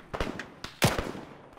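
Gunfire from a village to the west in a combat setting, heard as several sharp cracking shots in an irregular burst, moderately close and loud, with no talk over them.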